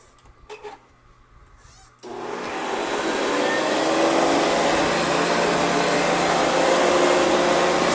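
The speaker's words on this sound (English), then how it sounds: "I'm still gonna run the Hoover in its path" A Hoover Convertible upright vacuum cleaner switches on after a quiet moment and runs steadily at close range, a loud continuous motor whine and airflow roar with no talking over it.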